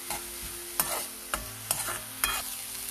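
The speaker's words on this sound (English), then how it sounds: "Allow it to fry." Rice rava with turmeric and salt frying in a pan, a soft steady sizzle broken by four sharp scrapes of a spoon stirring it, close and quiet.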